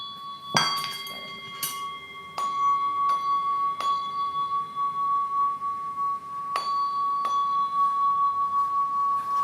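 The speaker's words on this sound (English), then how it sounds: "I'm just going to chime the bell" Small bells are chimed during a spiritual chanting session. Several separate, clear strikes come at uneven intervals, and each leaves a bright, sustained ringing tone that hangs in a quiet room.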